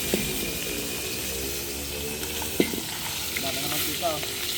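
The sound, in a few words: pork fat chicharon frying in oil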